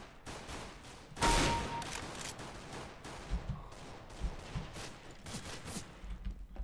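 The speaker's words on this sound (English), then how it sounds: "Oh, who's shooting? Who's shooting? Who's shooting me?" Gunfire in a Counter-Strike: Global Offensive deathmatch: a sharp burst of shots, then scattered single shots and short volleys at fairly low level through the rest.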